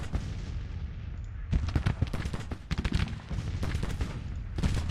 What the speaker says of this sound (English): Artillery having done the work that it could do.